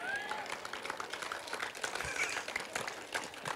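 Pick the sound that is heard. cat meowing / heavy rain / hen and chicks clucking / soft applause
soft applause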